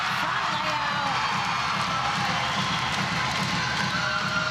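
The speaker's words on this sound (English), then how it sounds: "the crowd goes crazy" A crowd cheers loudly and steadily at an NC State Wolfpack gymnastics meet against Clemson, with dense roaring voices, whoops and some clapping filling the indoor arena without a break.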